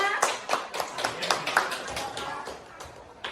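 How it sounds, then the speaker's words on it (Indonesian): A group at a school workshop on positive culture claps together in a steady run of irregular hand claps, close and moderately loud. "Tepuk tangan dulu oleh Bapak Putu Redana."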